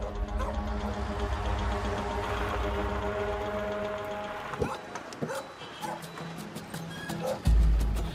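Feral dogs in an Indian city bark and yip over a loud, steady engine-like drone, with the barking growing sharper and more distinct toward the end.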